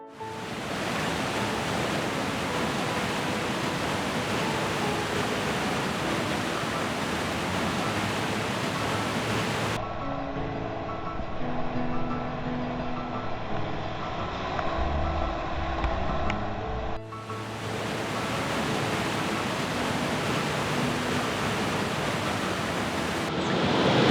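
A glacier river rushes past with a loud, continuous broadband roar, interrupted for several seconds by a quieter, muffled stretch before the full rushing water returns.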